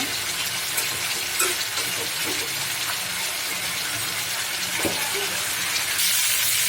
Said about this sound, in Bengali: এখানে মাছগুলো কষানো হবে, তারপরে আমি ঝোলটা দিব